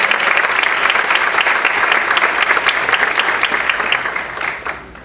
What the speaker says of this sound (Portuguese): Vamos dar uma salva de palmas de novo para ele.